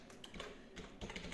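Someone types quickly on a computer keyboard, producing a short, close run of soft key clicks with no voices.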